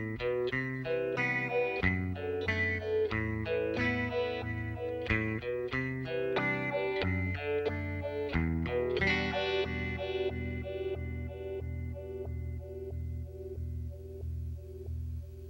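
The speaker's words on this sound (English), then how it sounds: "you flip it down to the square wave, keep pretty much everything the same, and it's going to make the shift really harder and give it kind of a cool step sequencer sound" Electric guitar through an Electro-Harmonix Stereo Polyphase analog optical phaser with its LFO on square wave, giving abrupt stepped shifts like a step sequencer over rhythmic picked notes that ring out and fade near the end.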